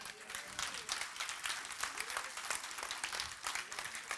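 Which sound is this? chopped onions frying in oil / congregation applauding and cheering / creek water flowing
congregation applauding and cheering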